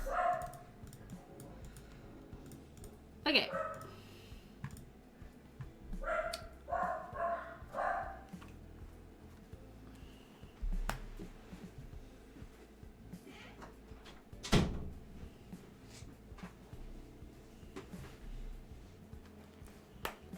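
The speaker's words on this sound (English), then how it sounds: "Sorry about the dogs." Dogs bark indoors in scattered bursts: a few single barks, then a quick cluster of yaps, then a sharp isolated bark later. A brief spoken word is heard over a quiet room background.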